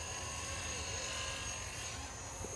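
A Blade 230s Smart v2 RC helicopter whirs in a steady high-pitched buzz as it performs a tail spin, its tone wavering slightly as it rotates, close and continuous with no voices.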